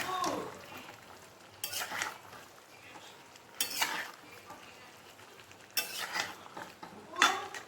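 Kashmiri chilli powder fries in a pan, a low steady sizzle running throughout with four louder bursts of stirring and scraping spaced a couple of seconds apart; no one speaks.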